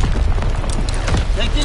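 An artillery barrage in the World War II shooter Call of Duty WW2 sends dull booms and rumbling blasts beneath in-game voice callouts.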